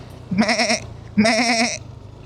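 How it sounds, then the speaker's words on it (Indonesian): Goats in a herd by a rural road bleat twice in quick succession, two loud, close, wavering calls about a second apart. "Nah di depan adalah rombongan kambing ya teman-teman."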